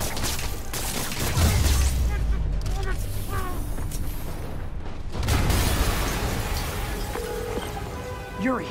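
Booming explosion in a video game, a loud, dense blast with rumbling low-end bursts around the middle and again past five seconds, surrounded by steady crackling game noise and mechanical clatter, with no speech.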